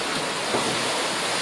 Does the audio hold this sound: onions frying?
no